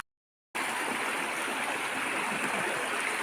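A rocky river strewn with large boulders rushes steadily after half a second of silence, a dense, close, continuous roar of water tumbling over stones with no voices.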